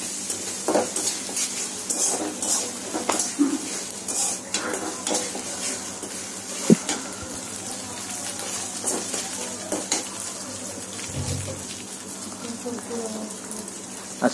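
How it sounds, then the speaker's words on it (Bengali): Chopped onion fries quietly in a pan while a spoon stirs and scrapes it in an uneven rhythm, with occasional light clinks of utensil on metal, under a soft steady background hiss. "পেঁয়াজ কুচিটা ভেজে নেওয়া হচ্ছে"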